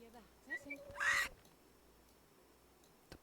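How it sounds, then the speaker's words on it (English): Birds calling in the game The Sims Medieval: a few short chirps followed by one loud, harsh cawing burst, then near quiet with faint ambient noise. "The birds are so loud"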